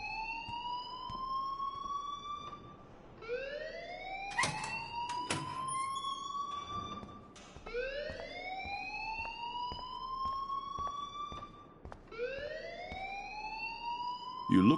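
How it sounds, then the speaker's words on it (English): Alarm in the Life Is Strange video game, a rising whooping siren that sweeps upward in repeated cycles about every four seconds, loud and close, with a few sharp clicks between sweeps. "please turn off that alarm since that's your job."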